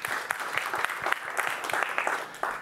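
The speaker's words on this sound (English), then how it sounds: "Let's give him a round of applause," Conference audience applauding a speaker at a Python event in London, a brisk round of clapping with sharp individual claps standing out, sustained at a moderate level throughout.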